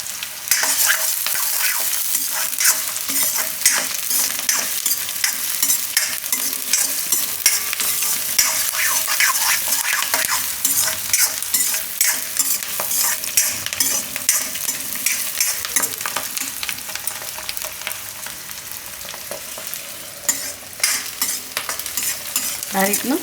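Onions and green chillies sautéing in a pan, a loud, continuous close sizzle with dense crackling and occasional stirring scrapes throughout, no talking.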